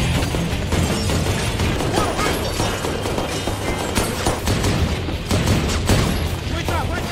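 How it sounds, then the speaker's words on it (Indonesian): Dense film-scene shootout: sustained loud gunfire bursts and booms layered with rumbling action-score noise, continuous and busy throughout with no quiet gaps. "Dan di sini adu tembak pun terjadi"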